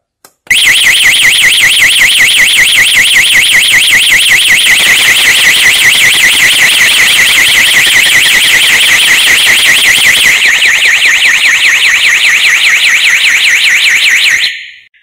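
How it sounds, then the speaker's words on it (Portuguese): A wireless fire alarm panel siren from Ouzer Electronics blares a loud, steady warbling electronic tone that sweeps rapidly up and down, starting abruptly and running continuously for about fourteen seconds before cutting off. "a central dispara a sirene e os sinalizadores audiovisuais imediatamente, não aguardando o temporizador."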